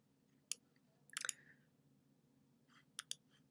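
A TinkerCAD Codeblocks editor gives soft, sharp clicks as code blocks snap together: a single click, then a quick cluster, then two more near the end, faint and alone against quiet background hiss.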